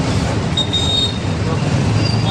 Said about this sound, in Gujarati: રિક્ષા સ્ટાર્ટ થઈ ગઈ છે મિત્રો જો જો ટ્રાફિક